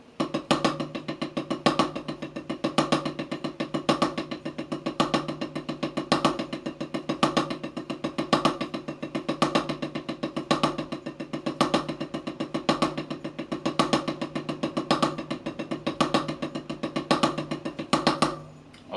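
A drum kit plays a steady triple paradiddle rudiment with accented strokes, crisp and close, the repeating pattern cycling evenly throughout with no talking.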